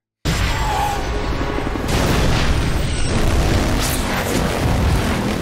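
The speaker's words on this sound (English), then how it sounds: "how the hell did Logan make it out of that explosion?" A big explosion from the film X-Men Origins: Wolverine, loud, sustained broadband roar and rumble that starts abruptly after a short silence and keeps going for several seconds without easing off.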